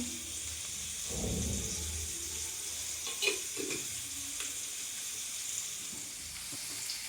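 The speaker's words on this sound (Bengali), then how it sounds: "এটা ফ্রাই হচ্ছিল, এবার দেখো উল্টিয়ে দিই।" A Bengali cauliflower dish with mint leaves fries in a pan with a splash of water added, giving a steady close sizzle and hiss. Soft stirring scrapes and a couple of clinks from the pan sound along with it.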